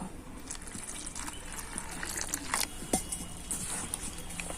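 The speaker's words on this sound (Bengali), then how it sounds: "এবার অল্প অল্প জল দিয়ে দেব" Water goes in small splashes into a raw potato batter spiced with garlic paste, turmeric and chili powder, making a close trickling, dribbling sound with a few sharper drips.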